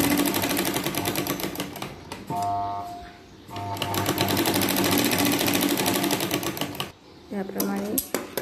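Sewing machine stitching the lining fabric of a katori blouse, bursts of rapid rhythmic mechanical clatter broken by short pauses and handling noises, close and loud, with a voice heard briefly.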